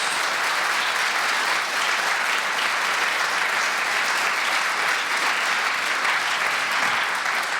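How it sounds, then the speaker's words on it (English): Dense, sustained applause from a large quiz show studio audience fills the whole stretch, steady and loud without a break. "you also earn this demonic deluge of applause"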